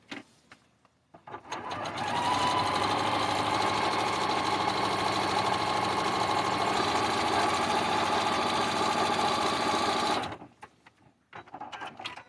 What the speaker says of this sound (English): And now we're going to sew along this line here.